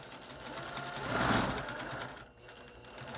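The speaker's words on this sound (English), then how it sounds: "I'm again sewing 1/4 of an inch from the edges." A sewing machine stitches a fabric face mask a quarter inch from the edge, a steady mechanical whir that swells louder midway, then fades and drops briefly near the end.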